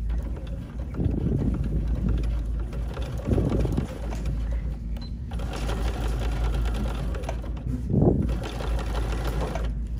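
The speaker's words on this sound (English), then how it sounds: "now I'm just going to stitch a little zigzag to hold my tab into place." A BERNINA sewing machine stitching a zigzag on vinyl runs steadily with a continuous mechanical whir throughout, swelling briefly in a few spots, with no talking.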